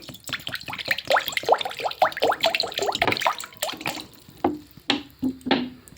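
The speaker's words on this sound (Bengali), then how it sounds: "গ্যাস জ্বালিয়ে কড়া বসিয়ে দিলাম তারপরে দিয়ে দেব পরিমাণ মতো একটু জল" Water poured from a small vessel into a wok (karai) on a lit gas stove while cooking tender greens, in a village kitchen; a run of close splashing and dripping, then a few separate louder splashes toward the end.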